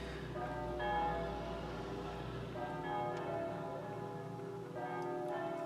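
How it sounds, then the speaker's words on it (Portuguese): A church bell rings repeatedly with rich, sustained metallic tones, strikes overlapping and sounding from some distance, steady throughout with no talking. "Agora o sino começou a tocar."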